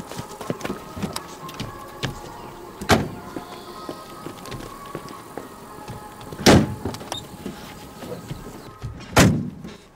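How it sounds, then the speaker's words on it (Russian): Car arriving in a Russian drama series, with a continuous low vehicle rumble and three sharp, loud door thuds spaced a few seconds apart. "Машина."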